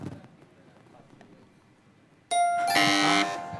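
An electronic answer bell on an Indonesian TV game show rings out loud and sustained for over a second, abruptly cutting in after a stretch of quiet studio background.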